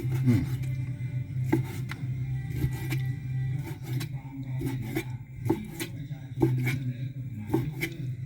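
A knife thuds against a cutting board in repeated, uneven chops of chicken offal, fairly quiet, over a low steady hum.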